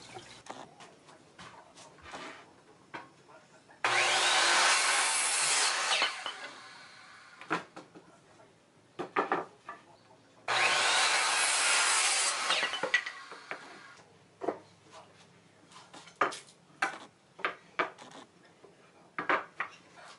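A hand saw cuts wood for a turtle tank lid in two loud, sustained bursts of rasping strokes, close up, separated by quieter knocks, taps and handling of wood.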